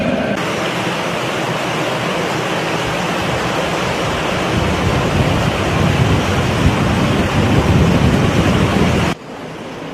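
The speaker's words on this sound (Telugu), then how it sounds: "మిక్సర్ నుండి నీటిని క్లారీ ఫ్లూక్యులేటర్ ద్వారా ఫిల్టర్ బెడ్స్లోనికి పంపబడును." Water rushes steadily through the filter beds of a water treatment plant, a loud, continuous broadband roar with no voices, cutting off abruptly near the end.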